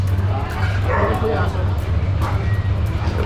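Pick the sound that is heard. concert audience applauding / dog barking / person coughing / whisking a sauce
dog barking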